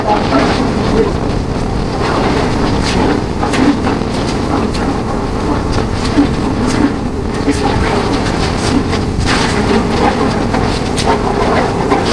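The Paharia Express passenger train from Digha to New Jalpaiguri rolls steadily along the rails through a curve, a loud, continuous rumble with faint rhythmic clickety-clack from the wheels.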